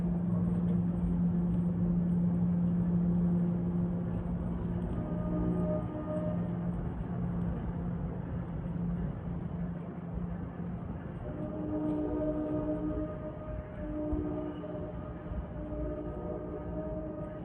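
An NJ Transit train bound from Hoboken to Port Jervis rumbles past with a steady, loud roar of wheels and engine, tonal hums rising and shifting as it goes by, no talk.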